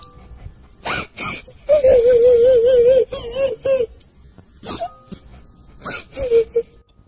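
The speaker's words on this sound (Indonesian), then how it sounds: "Suara itu adalah suara dari anak kecil yang menangis, seperti menangis kesakitan." Small child crying and whimpering in pain for a horror story effect, with wavering, sobbing wails and breathy gasps in uneven bursts, close and eerie.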